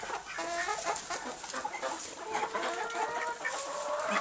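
Hens and roosters clucking and calling in a backyard rooster pen, a busy, close chorus of overlapping clucks and squawks with no talk.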